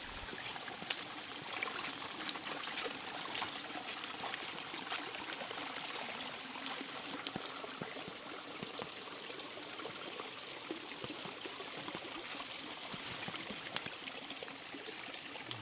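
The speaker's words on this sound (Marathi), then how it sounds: "पाटासारखं पाणी झालं आणि खाली खाली जाऊन ओढा झाला" A small forest stream in the monsoon trickles and burbles steadily over stones, a soft continuous flow that stays faint and even throughout, with no voices.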